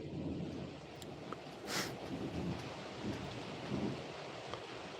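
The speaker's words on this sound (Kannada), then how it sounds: "ಭಾರಿ ಜೋರು ಮಳೆ ಕೂಡ ಬರ್ತಾ ಉಂಟು ಇಲ್ಲಿ ಸಿಡಿಲ್ ಬರ್ತಾ ಉಂಟು ಪಟಪಟ ಅಂತ ಸಿಡಿಲ್ ಬರ್ತಾ ಉಂಟು" Heavy rain hisses steadily throughout with low thunder rumbling in the background, and a sharp thunderclap stands out briefly midway.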